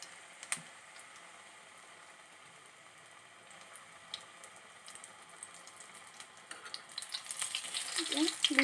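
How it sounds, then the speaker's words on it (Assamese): Gram-flour-battered eggplant slices fry in a pan, giving a soft steady sizzle with light clicks that swells into louder crackling bubbling near the end. "বেচনৰ লেয়াৰটোত বেঙেনাখিনি তিয়াই দিলোঁ আৰু এতিয়া এচকল এচকলকৈ মই ফ্ৰাই কৰি যাম"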